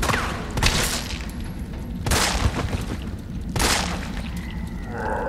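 Three loud, sharp gunshot blasts from Resident Evil 3 Remake, spaced about a second and a half apart, each with a brief booming tail over a constant low background rumble.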